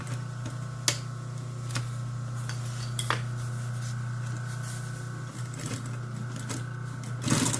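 A sewing machine stitches a repair on a wildfire fighter's chaps, a steady close hum carrying continuous rhythmic stitching with a few sharper knocks and clicks scattered through, no speech.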